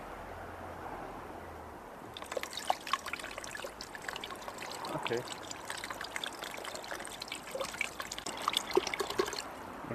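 Water pours and gurgles out of an upturned bottle in a steady, close trickle with irregular splashes, while people talk briefly over it.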